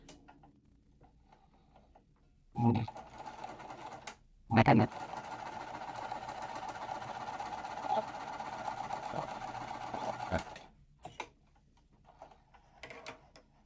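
A sewing machine runs in one steady stretch of several seconds, stitching quilt pieces for a mystery quilt, with a few short clicks before it starts and after it stops, and a person talking before and around the run.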